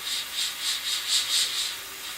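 A spray can hisses in short rhythmic pulses, spraying paint onto a Tamiya 1/32 F-16 scale model, a soft airy spray repeating about every quarter second.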